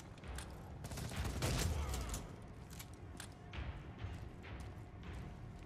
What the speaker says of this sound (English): It's a mean shotgun.